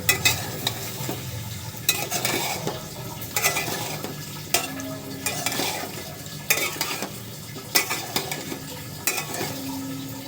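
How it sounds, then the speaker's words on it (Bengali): Taro (kochur mukhi) is stirred and fried in a pan with potatoes, sizzling underneath while a spatula scrapes and clanks against the metal in uneven bursts, with no talking. "এখন দিয়ে দিব কচুরগাটি একটু ভালো করে নাড়াচাড়া করে কষিয়ে নেব"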